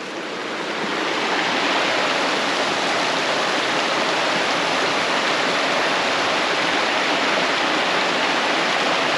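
Red Creek in Dolly Sods rushes loudly and steadily at a backpacking crossing point, a dense, unbroken roar of flowing water close by with no voices.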